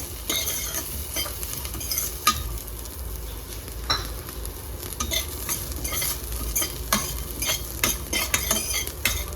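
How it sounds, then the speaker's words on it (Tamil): Ginger and green chili roast with coconut in a pan for a vegetable kurma, giving a soft, steady sizzle under repeated scraping stirs and occasional utensil clinks against the pan. "லைட்டாக ரோஸ்ட் ஆனதும் இஞ்சியும் பச்சை மிளகாவும்."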